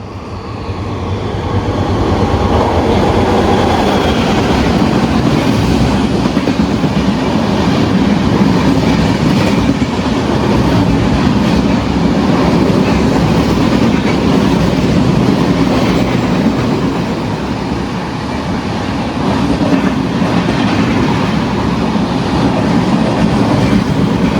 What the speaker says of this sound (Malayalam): എറണാകുളം മഡ്ഗാവ് സൂപ്പർ ഫാസ്റ്റ് വരുന്നുണ്ട്